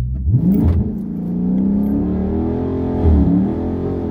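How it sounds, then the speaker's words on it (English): A 2018 Dodge Charger Scat Pack accelerates as its engine revs up loudly and close, settles into a sustained rising drone, then surges again near the end, with no talk. "I'm gonna give it gas right now and see what it does"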